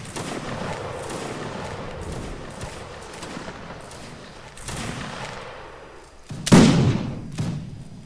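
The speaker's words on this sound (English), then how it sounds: "Present. Fire!" A line of muskets fires a volley in the Napoleonic Wars battle game Mount and Blade: Napoleonic Wars; distant battle noise rumbles before a sudden loud, booming burst of gunfire near the end that fades out.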